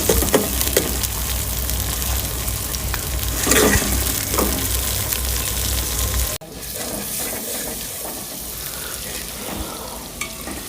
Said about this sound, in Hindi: अब मैं इसमें अदरक लहसुन का पेस्ट और मिर्चें डालने लगी। बिस्मिल्लाह। इसे अच्छी तरह भून लूँगी